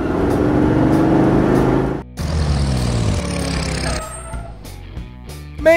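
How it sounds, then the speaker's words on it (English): A convertible car's engine runs loud and close, drops out briefly, then revs again and fades into quieter mechanical noise, with no voices. "Convertible."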